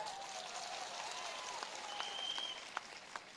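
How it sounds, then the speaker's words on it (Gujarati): A crowd applauding Arvind Kejriwal's arrival at an AAP political gathering, a steady, fairly distant wash of clapping with a few sharp claps and faint high tones. "અરવિંદ કેજરીવાલજી પધારી ચૂકેલા છે ત્યારે એકવાર જોરથી તાળીઓ વધાવી લઈએ એમને"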